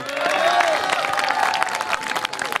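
Applause and some cheering from a parish congregation at a church event in Braine-l'Alleud, Belgium, greeting the youth pastoral team; steady, dense clapping from a crowd that carries on throughout and fades a little near the end.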